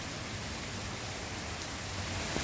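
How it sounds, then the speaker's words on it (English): Steady rain pours down in a constant hiss of drops, fairly soft and even throughout. "You made it rain, kitty cat."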